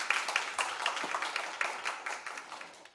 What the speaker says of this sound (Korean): 오늘 열띤 토론 진행해주신 패널 분들께 다시 한번 감사 인사 드리겠습니다. 박수 부탁드리겠습니다.